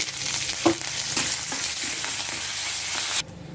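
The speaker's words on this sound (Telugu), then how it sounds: "పోపు వేగిపోయింది" Steady crackling sizzle of a tempering of dried red chillies and curry leaves frying in hot oil, close and loud, with a few soft clinks, cutting off abruptly near the end.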